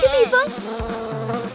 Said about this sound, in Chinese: 一只蜜蜂